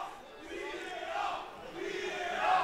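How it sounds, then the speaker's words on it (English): A football crowd at a Scottish league match between Stranraer and Cowdenbeath shouts in unison for a VAR review, a broad, swelling chant from the stands that rises and falls across a few seconds. "Crowd shouting VAR."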